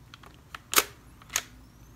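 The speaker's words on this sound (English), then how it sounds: "you just press this button and the lens will pop out." Two short mechanical clicks and whirs from a Fujifilm Instax Mini instant camera as its lens extends on startup, about half a second apart, close and fairly quiet against a faint background.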